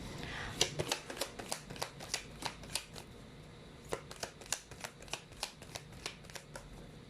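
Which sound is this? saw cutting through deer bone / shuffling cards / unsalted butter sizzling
shuffling cards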